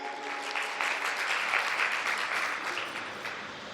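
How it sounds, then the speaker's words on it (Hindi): An audience at a religious discourse on honoring the cow breaks into steady applause when prompted, a dense, uniform patter of clapping at moderate loudness lasting nearly four seconds without letting up. "अब बजाओ ताली"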